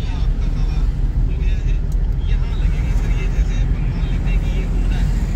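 Mahindra Scorpio racing on a foggy road, with a steady, loud rush of engine and road noise throughout and no clear separate events.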